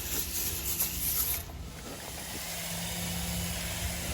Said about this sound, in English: we are now applying the New Bright with the Viper coil cleaner foam gun